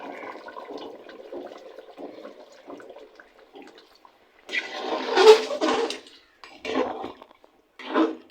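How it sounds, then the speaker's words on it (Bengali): Water is poured into a large pot of duck curry cooked with new potatoes: a short, loud splashing gush rises midway after quieter clatter of the pot, followed by a couple of brief, close pours. "অল্প করে একটু পানি দিচ্ছি"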